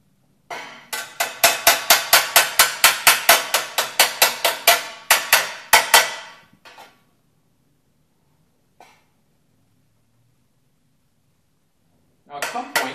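A metalworking hammer strikes metal while forming a triangular roll. A rapid run of about twenty sharp, ringing blows comes at a steady rhythm, then a few scattered hits, a pause, and the blows start again at the end.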